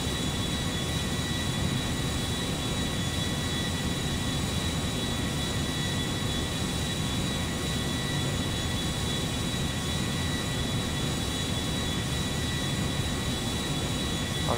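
An airplane engine drones steadily in GTA 5, a loud, unbroken roar of flight with no pauses and no talking.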